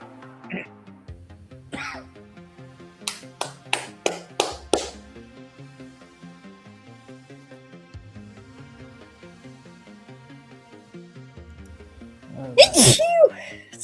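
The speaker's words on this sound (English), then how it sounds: "Sorry. Bless you." A single loud sneeze bursts out near the end during a tabletop dice game session, following a run of sharp tapping or dice clatter over quiet background tones, with people talking nearby.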